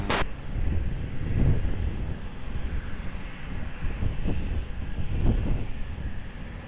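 An airliner taking off from runway 20 at Lisbon Airport, a broad distant engine roar that swells and lingers steadily, with wind buffeting on the microphone and a short sharp click at the start.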